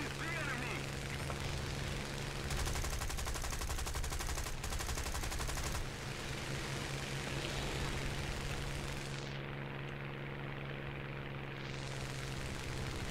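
Aircraft machine guns fire in War Thunder, a rapid rattling burst lasting a few seconds over a constant engine drone, with a player talking across it.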